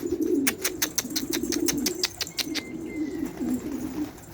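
Pigeons coo in low throaty rolls while sharp chirps and clicks rise above them in a quick series, then fade to soft cooing, close by in an outdoor loft.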